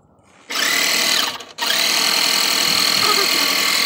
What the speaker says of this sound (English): And we're trying this air compressor, guys.